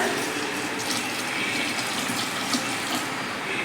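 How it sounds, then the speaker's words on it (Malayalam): Boiling water is poured into a pot of rasam, a steady splashing, gurgling pour that runs continuously at moderate level with no talking. "എന്തുമാത്രം വെള്ളം വേണോ അതാ ഞാൻ തിളച്ച വെള്ളമാണ് ചേർക്കണത്"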